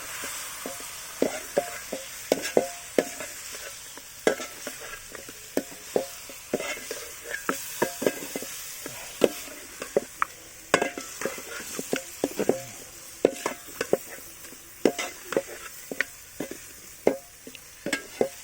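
Masala-coated chicken frying with onions in a pan for kanthari chicken: a steady sizzle broken by frequent sharp scrapes and knocks of stirring, close and moderately loud, with no talking.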